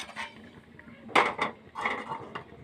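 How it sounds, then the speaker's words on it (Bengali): A wok set down on a kitchen stove for frying radish: a couple of sharp metallic clanks and scrapes, close and brief, with no talking. "কড়াই বসিয়ে দেব।"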